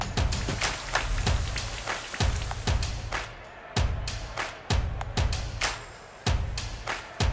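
Rain from a Rain Dance move in a video game battle, a steady hiss of falling drops broken by repeated sharp thumps and clicks at fairly regular intervals.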